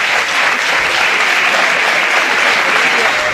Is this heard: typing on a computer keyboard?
no